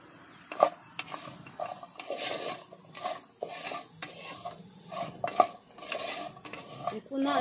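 Goat trotters stirred and sautéed in a pot for soup, with clattering metal spoon strikes and scrapes against the vessel at irregular intervals over a soft sizzle, close by.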